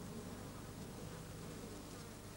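A bee buzzes steadily and loudly throughout, with a continuous close drone and no pauses or voices.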